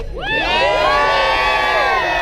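Crowd at an SCA combat demonstration at a Renaissance faire erupts into loud, sustained cheering and whooping, with voices rising together and holding steady throughout.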